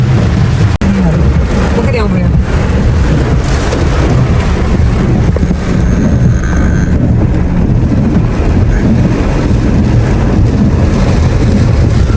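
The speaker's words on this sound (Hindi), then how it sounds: "आप देख रहे हैं बरसात दोबारा से खतरनाक तरीके से हो चुकी है।" Heavy rain pours in a loud, continuous roar with rumbling low thunder and wind buffeting, recorded close during a storm while someone speaks underneath.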